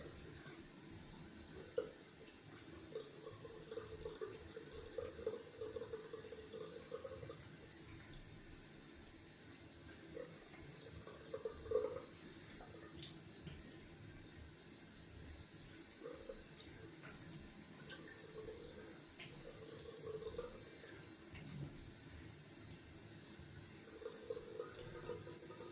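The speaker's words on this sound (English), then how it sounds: "Going down for cold water, rinse." Cold water runs steadily from a bathroom tap into a sink for rinsing after shaving, a soft continuous splashing stream heard up close at low volume with small irregular splashes.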